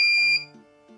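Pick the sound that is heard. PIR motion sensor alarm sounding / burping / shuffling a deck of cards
PIR motion sensor alarm sounding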